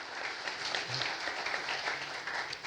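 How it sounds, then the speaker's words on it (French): An audience at a corporate keynote presentation applauds with dense, steady clapping at moderate volume throughout, with no speech above it. "Vous pouvez l'applaudir."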